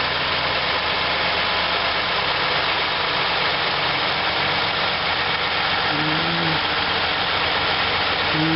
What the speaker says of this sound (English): Okay, I'm going to start it up and check for leaks.